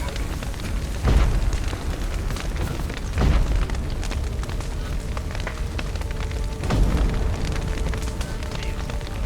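Spreading fire in The Witcher 3 gives a steady, close broadband roar and crackle, with three heavier low booms rising out of it at uneven intervals.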